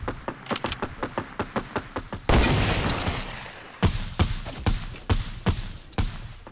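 Rapid video-game gunfire in Fortnite: evenly spaced sharp shots in a steady rhythm, a dense continuous blast of fire that fades off, then more regular punchy shots, loud and close.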